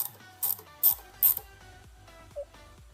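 A bolt and nut with a washer are tightened on a double-suspension FST EVO tricycle, heard as three or four loud, close ratchet clicks followed by a softer metallic tick, with quiet gaps between them.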